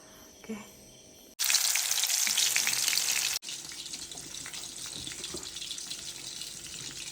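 Rice boils in a pot with a bubbling, hissing rush. It starts quiet, jumps to a loud close roar, then drops to a steadier, softer simmer after abrupt cuts.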